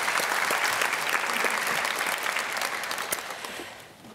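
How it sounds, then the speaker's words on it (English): Sustained applause from an audience at a Girls in ICT Day opening ceremony, a steady dense wash of clapping that holds, then gradually fades toward the end. "I would actually like to give them a clap."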